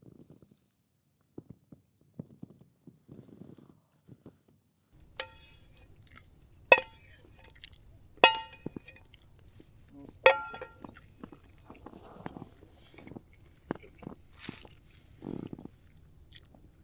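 A hot meal is eaten from a pan while camping in the Peak District, with sparse close chewing, clinks of utensil against metal and soft mouth noises spread out over quiet background.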